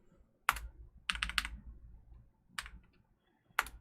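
Computer keyboard typing while writing code: four quick bursts of clicky keystrokes, close and fairly loud, separated by quiet gaps, with no voices.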